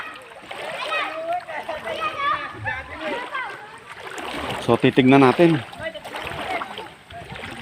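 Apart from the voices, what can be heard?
young people splashing while bathing in a river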